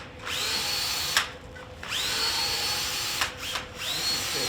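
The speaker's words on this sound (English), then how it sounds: "you make sure the drill is going this way" A power drill spins a rotary brush across a ski base during tuning, giving a steady high whine with brief dips and restarts as the brush is lifted and pressed back down, close and alone.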